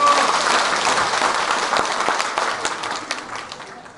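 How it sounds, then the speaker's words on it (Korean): A crowd claps loudly at the opening ceremony of a folk music competition and traditional wrestling event, sustained applause from many people that gradually fades over four seconds, no speech heard. "큰 박수 부탁드리겠습니다"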